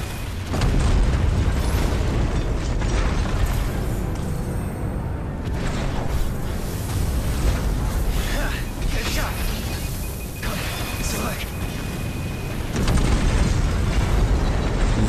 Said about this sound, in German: 8 Sekunden dauert es, bis das Schiff explodiert